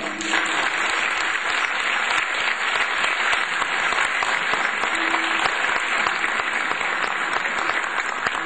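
An audience in a concert hall at a Turkish classical music club concert applauds to welcome a singer, dense continuous clapping filling the room for the whole stretch, loud and steady with no talk over it.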